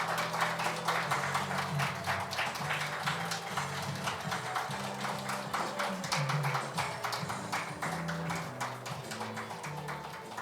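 Applause from a company audience at a new-year ceremony and vision proclamation event, with many hands clapping in a steady, dense patter that stays fairly constant and slightly distant throughout.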